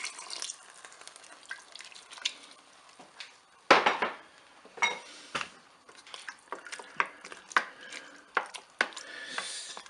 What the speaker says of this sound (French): Je vais verser le reste de ma préparation dans la cuve.